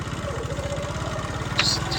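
A motorcycle idles close by with a low, even putter of rapid engine pulses. A short, faint high chirp cuts in briefly near the end.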